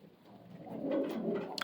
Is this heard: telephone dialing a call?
no